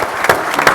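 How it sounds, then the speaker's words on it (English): Brief burst of applause from a breakfast audience for a panel, loud close hand claps with a couple of sharper individual claps standing out. "hand of applause for the 4 panelists"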